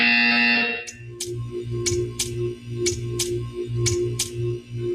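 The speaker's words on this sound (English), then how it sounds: "You will hear a buzzer." A repeating buzzer from the video game Portal 2 sounds in a steady series of short, regular pulses over a low hum, each buzz clear and fairly loud.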